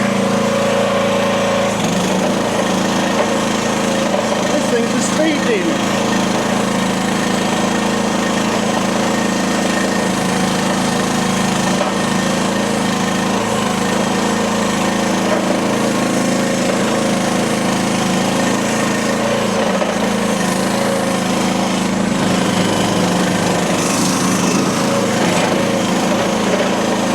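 A small engine on a cheap mini skid steer runs continuously while the machine drives, a steady loud buzzing drone with slight rattling, alone and close for nearly half a minute.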